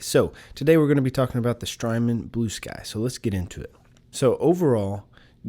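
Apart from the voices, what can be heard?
No everyday noise stands out behind the speech.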